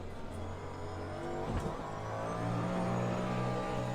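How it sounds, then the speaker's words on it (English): A Porsche race car in the racing game Le Mans Ultimate overtakes, its engine a steady mid-level drone that swells with a brief passing whoosh and then a louder sustained roar. "As we get overtaken by the Porsche"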